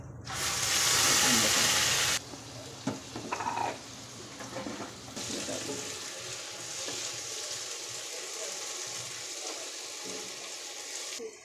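Ground tomato, green chili and ginger hit hot oil already seasoned with cumin, bay leaf and garam masala, giving a loud burst of sizzling that drops away, then a softer, steady hiss and occasional stirring clinks.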